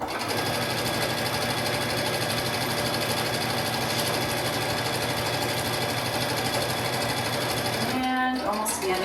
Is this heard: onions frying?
no